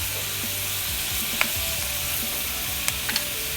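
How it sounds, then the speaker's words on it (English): Garlic sizzling in a frying pan with onions and a dash of teriyaki, a steady close hiss of frying broken by a few sharp utensil clicks and scrapes against the pan, with no voices. "Toss a little garlic in there"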